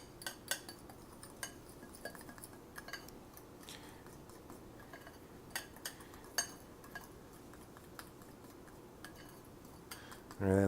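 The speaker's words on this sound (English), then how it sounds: "I'm just going to whisk my dry ingredients together" Dry breading ingredients for country fried steak are whisked together in a bowl: quiet, fairly regular clinks and ticks of the whisk against the bowl, soft and close, with no voice.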